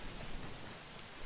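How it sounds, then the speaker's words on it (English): Steady rain falls at night in the video game Elden Ring Nightreign, a dense, even hiss of downpour with no break and no voices. "So it starts out at night, you know, and it's raining."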